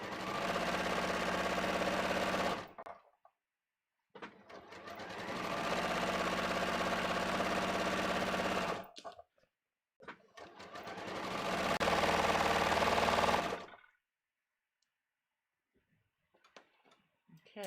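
A sewing machine stitches contoured pants with a two-piece back leg in three long, steady running bursts. Short pauses separate the bursts, and there are faint handling noises between them.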